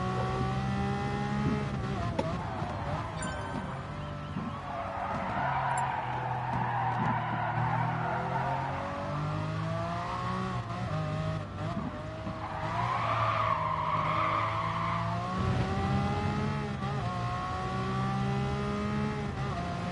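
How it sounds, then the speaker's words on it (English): An old Ferrari race car driven around Spa in a racing game, its engine droning steadily with rising and falling pitch through gear changes, plus swelling bursts of tyre squeal through corners, loud and continuous with no talk. "Getting the hang of the old Ferrari now."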